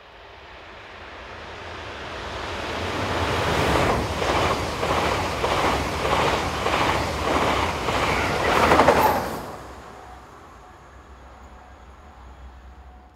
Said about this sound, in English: The train passes Foulcar-Alvimar on the 27th of September 2018